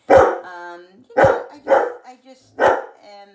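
A dog barks four times in short, loud bursts, the middle two close together, each bark trailing into a brief whine.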